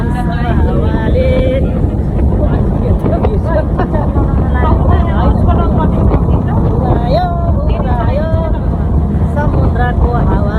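Strong sea wind in Sydney, Australia buffets the microphone with a constant, loud low roar throughout, while people talk over it.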